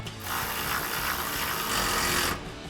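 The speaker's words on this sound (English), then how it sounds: "Gonna grab our ratchet and 13mm socket and tighten down our bottom one." A ratchet with a 13mm socket tightens a bolt on a running board bracket of a 2019-2024 RAM 1500, making a steady, loud, rapid clicking of the pawl for about two seconds, close up and with no talking.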